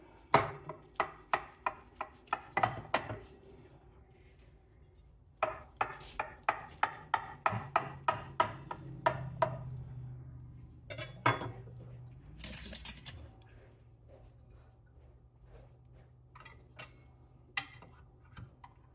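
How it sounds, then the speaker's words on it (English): A knife cuts down through a slice of cooled homemade lasagna and scrapes against the pan. It sounds as a quick run of sharp, close taps and knocks, a pause, then another burst of tapping and a few scattered clicks. "let's see if we can get this out of the pan in a nice slice"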